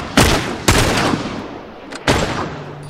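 Three loud, close rifle shots in The Last of Us video game, each a sharp crack trailing into a long rumbling decay, spaced unevenly about half a second to a second and a half apart.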